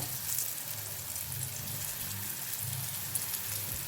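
Slices of elephant foot yam and brinjal, coated in rice flour and semolina, fry in a pan with a steady, close hiss and sizzle that does not let up, and no one speaks.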